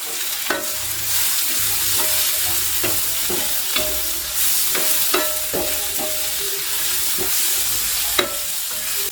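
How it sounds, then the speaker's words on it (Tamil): Onion and spice masala with pepper sautéing in a pan for egg mass, a steady close sizzle with repeated scraping stir strokes throughout, no voices. "இது எல்லாத்தையும் சேர்த்து நல்லா வதக்கிக்கலாம்."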